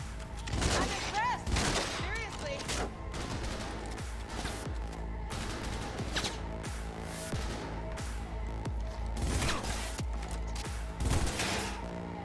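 Rapid gunfire in the game Cyberpunk 2077: dense, loud volleys of shots crack continuously, with sharper bursts and clattering impacts throughout and a low rumbling game score underneath.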